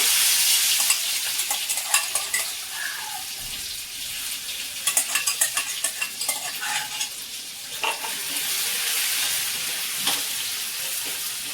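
Garlic and green chili thecha with asafoetida frying in hot oil, a steady close sizzle with repeated stirring scrapes and clinks of a spoon against the pan throughout.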